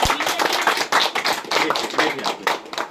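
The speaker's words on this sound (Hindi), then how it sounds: "जोरदार तालियां बजाएं" A Palm Sunday church congregation claps loudly in praise, a close, vigorous barrage of many hands with uneven pulsing surges and no talk.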